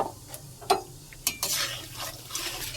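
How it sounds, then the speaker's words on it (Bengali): Peanuts fry in hot oil in a wok: sharp metallic clinks and stirring scrapes at first, then a rising, close sizzle builds and holds. "তেলটা গরম হয়ে গেলে আমি বাদামগুলো লাল লাল করে ভেজে নেব"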